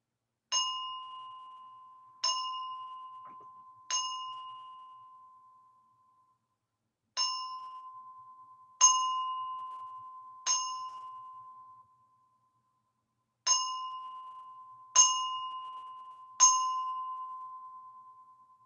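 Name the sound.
ritual bell knells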